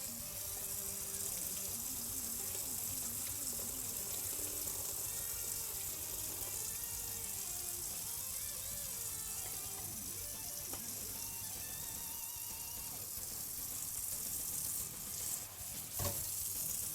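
Water runs steadily into an open photo developing tank during a five-minute final rinse, a faint, continuous hissing trickle with no talking until a brief clatter near the end.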